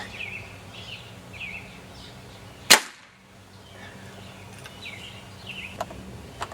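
A Nerf bolt action rifle fires a BB-weighted dart through corrugated cardboard, giving one sharp, loud snap-and-thud midway, with faint bird calls in the background before and after.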